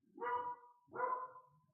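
Two separate dog barks in quick succession, each slightly stretched, heard from a distance with nothing else around.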